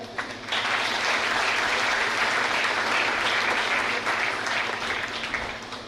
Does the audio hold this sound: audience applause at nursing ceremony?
yes